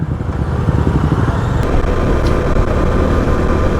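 Motorcycle engines of a large group ride drone close by in traffic, a loud, continuous low rumble with passing vehicles and no talking.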